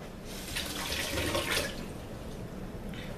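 Tap water runs steadily into a sink while peaches are rinsed, a soft continuous splashing that swells briefly in the middle and then eases off, with no talk.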